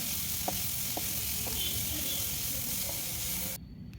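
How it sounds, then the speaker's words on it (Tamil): Capsicum and mixed vegetables for a veg roll filling sauté quietly in a pan, a soft steady sizzle with a few faint stirring taps, cutting off near the end. "இதையும் சேர்த்து நல்லா வதக்கிடுங்க"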